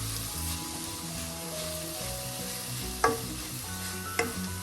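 Masala for a Kerala Malabar chicken curry frying gently in a pan, a soft steady sizzle with stirring scrapes and two distinct clinks of a spoon on the pan near the end.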